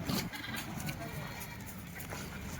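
Young goats of the Sirohi, Gujari and Ajmeri breeds bleat at a goat market in Dhule, with fairly loud, close calls mixed with steady crowd noise and voices throughout.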